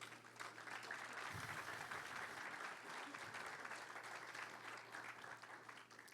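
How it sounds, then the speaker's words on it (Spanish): A congregation at a church service gives God a loud round of applause, with steady, dense clapping from a crowd that continues evenly throughout. "Dale un fuerte aplauso a Dios"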